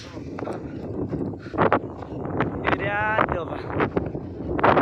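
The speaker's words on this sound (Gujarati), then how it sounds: "પવન વાયરો બહુ ફાસ્ટ ચાલે હ." Gusty wind buffets the microphone in a low, rough roar over a farm field while people talk over it.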